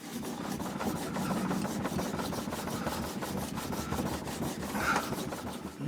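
Green polishing compound rubbed back and forth onto a leather strop mounted on a piece of wood, a soft, quiet, rhythmic scraping repeated in short strokes close by.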